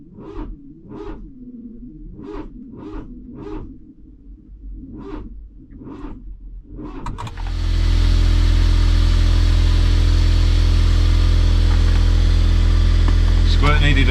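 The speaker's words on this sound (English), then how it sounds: "It's going to be a slow starter motor that you hear" A Smart car with a weak battery cranks slowly, its starter motor groaning through about eight labored, evenly spaced turns before the engine catches and settles into a loud, steady running hum.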